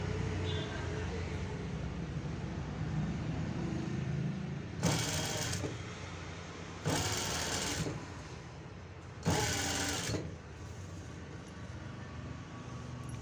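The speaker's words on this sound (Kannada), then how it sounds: "ಎಳ್ಕೊಂಡು ಸ್ಟಿಚ್ ಹಾಕಬೇಕು." A sewing machine stitches piping onto fabric in three short, loud bursts of rapid whirring. Someone talks throughout, under a steady low room hum.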